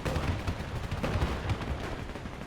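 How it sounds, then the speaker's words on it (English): Artillery and gunfire in the video game Men of War II, a busy battlefield din of repeated distant shots and thuds, moderately loud and continuous without any talking. "Oh, there's more artillery."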